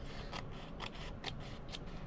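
Scissors snipping cork fabric while trimming the edge of a handmade journal, a quick series of about seven soft, evenly spaced cuts, close and quiet with no talking.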